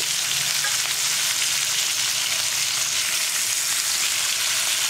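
Pearl spot fish sizzles and crackles steadily in hot oil in a pan, a loud, continuous frying hiss with no voices.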